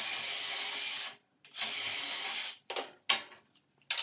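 A wood board for a tool cabinet being cross cut, two sustained bursts of saw noise each about a second long, followed by short scraping and knocking handling sounds, close and fairly quiet.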